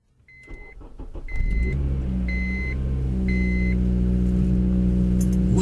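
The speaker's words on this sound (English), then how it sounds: "I've just got the engine running" A car engine starts and settles into a steady low idle, with several electronic beeps sounding over it.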